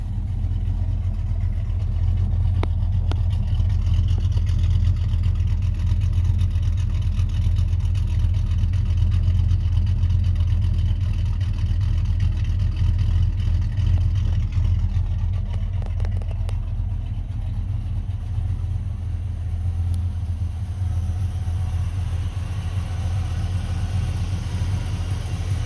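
A cammed 1991 350 V8 with a stock bottom end runs loud and steady close by, a continuous deep rumbling drone that holds at an even level for the whole stretch, with no talking.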